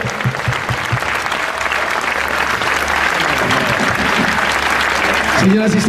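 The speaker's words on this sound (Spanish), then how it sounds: "fuerte el aplauso" An audience applauds steadily after a tango performance by a quartet, a dense, loud, continuous clapping that fills the whole stretch and swells slightly toward the end.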